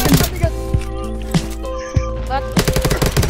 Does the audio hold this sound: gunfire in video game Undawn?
yes